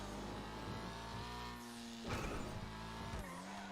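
A car engine in GTA V on a FiveM server revs hard through quick gear changes, the pitch climbing then dropping, with a brief tire squeal in the middle, loud and continuous.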